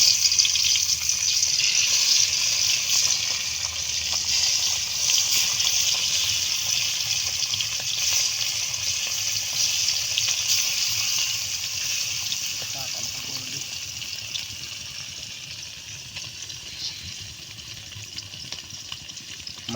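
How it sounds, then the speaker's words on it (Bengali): Parshe fish frying in hot oil outdoors in the Sundarbans, a steady loud hiss and sizzle that runs throughout and eases slightly toward the end, with faint background noise. "এবার পার্শে মাছ ভাজা হবে।"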